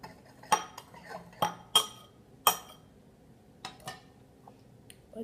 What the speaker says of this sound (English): just keep stirring and stirring and stirring until everything looks more like a scrub.